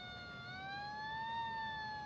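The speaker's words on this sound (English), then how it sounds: "I think I hear sirens." Police sirens wail steadily in the distance, a rising and falling electronic tone carried over faint background rumble, set during a street protest in 1968 Paris.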